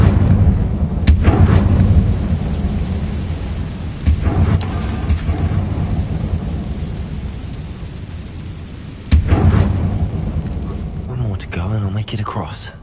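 The Confringo explosion spell in the video game Hogwarts Legacy, heavy booming impacts with long rolling rumbles, a sudden blast near the start and another later on, amid loud game sound and some speech.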